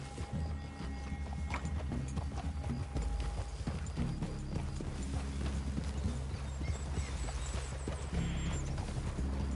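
Horse hooves clip-clopping on the ground in the video game Red Dead Redemption 2, a steady rhythmic walking beat, fairly quiet under a background ambience, with no speech.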